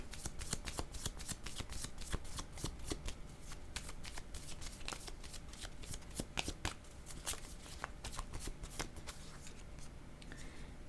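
Tarot cards are shuffled by hand in a continuous run of close, crisp riffling and flicking, quiet but steady for about eleven seconds, with no speech.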